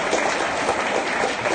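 Dense, steady audience applause at an art celebration event, many hands clapping together at close range with no voices standing out.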